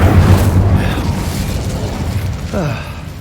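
Incendio fire spell cast in Hogwarts Legacy during a dragon encounter, a loud roaring burst of flame with a low rumbling body that lingers, then a second whooshing flare near the end.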